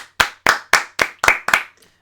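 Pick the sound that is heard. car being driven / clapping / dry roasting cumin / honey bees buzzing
clapping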